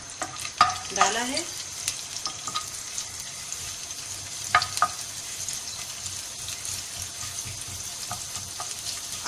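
Chopped garlic sizzles and fries in two tablespoons of ghee in a pan, a steady broadband crackle with a few sharper clinks and stirring knocks, close and moderately loud, after a brief spoken phrase at the start.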